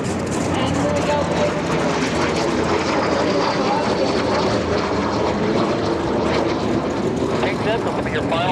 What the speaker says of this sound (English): Pink jet, this will be your final pass.